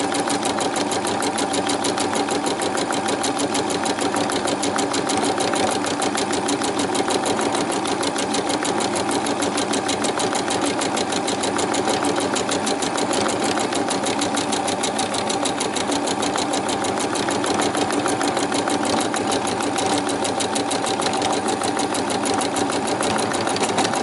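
Sewing machine stitching shadow detail onto a highland cow bag, running in a steady continuous whir throughout, close and fairly loud with no pauses.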